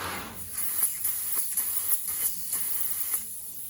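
An airbrush sprays paint onto a Harley Davidson motorcycle, giving a continuous close hiss with faint regular pulses throughout.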